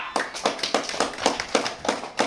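A crowd applauding at a bull race prize ceremony, steady close clapping with regular bursts of many hands, loud and continuous with no talk over it.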